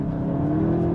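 A Volkswagen Golf GTI, front-wheel drive, pulls onto a main road with a steady, close engine drone under acceleration, holding an even tone throughout without gear changes or other sounds.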